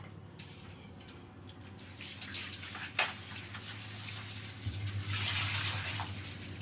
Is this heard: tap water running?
yes